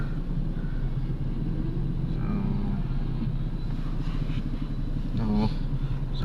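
Steady road traffic of cars and motorcycles crossing Tubod Bridge in Iligan City after a flood, a continuous low engine rumble with passing vehicles throughout, with voices talking over it.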